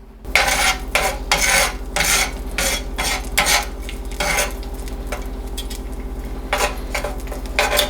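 Garlic and red pepper flakes sizzle in hot oil in a pan, under repeated loud scraping and clinking strokes of a utensil stirring against the pan.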